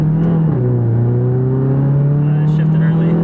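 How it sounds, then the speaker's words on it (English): A 350 HP VW GTI accelerating hard in first gear from a roll at about 20 mph, a loud, close, steady engine drone rising in pitch with a brief dip near the start, heard from inside the car. "I'm gonna try first gear from a roll,"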